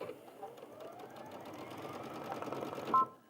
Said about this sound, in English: So you just want to make a start sewing.